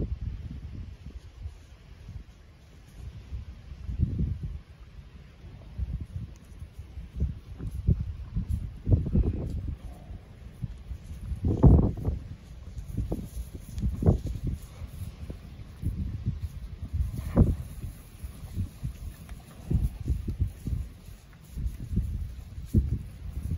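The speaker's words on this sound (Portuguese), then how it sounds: "Hoje tá um vento louco aqui em Rondônia" Strong wind blows outdoors in rural Rondônia, producing irregular low gusts and buffeting that rise and fall over about twenty seconds, with faint rustling in between.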